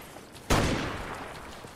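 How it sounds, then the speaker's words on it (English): Gunfire in an online multiplayer shooter game: a single sharp, loud shot bursts out, then trails off into a lingering rumble of more distant fire. "What are they still shooting at?"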